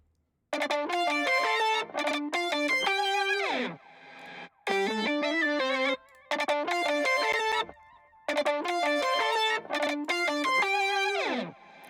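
Synthesizer notes with pitch bends in music production, bright distorted chord stabs in repeating bursts, each phrase sliding downward in pitch before breaking into short gaps, loud and clear with no voices.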